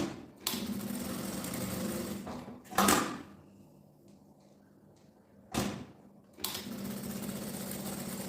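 Domestic sewing machine stitching along the edges of a fabric bag strap, heard as soft whirring runs broken by a few sharp clunks and handling knocks, with quiet pauses between bursts.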